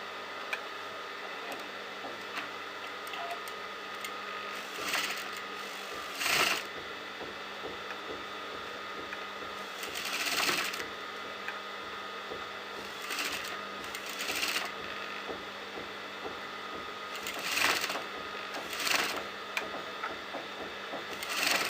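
A sewing machine stitches around a fabric neckline with a quarter-inch allowance, giving quiet steady ticking with several louder bursts of fast running stitches spaced through the stretch.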